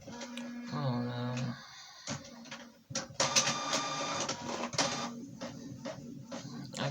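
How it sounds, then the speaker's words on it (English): An inkjet-style home printer runs through a print job, whirring motor tones and mechanical clunks and rattles of paper feeding coming in bursts, close and fairly loud. "And it's still printing."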